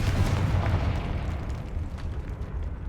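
A Confringo fire spell explodes in the video game Hogwarts Legacy: a loud, rumbling blast that rolls on as a sustained, heavy roar, with no voices.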